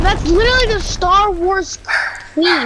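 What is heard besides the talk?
dog barking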